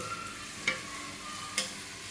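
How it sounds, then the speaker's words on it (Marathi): Chopped onion fries in hot oil until red and crisp, giving a steady close sizzle broken by two sharp scrapes of the spoon stirring the pan. "कांदा चांगला लाल कुरकुरीत करायचा"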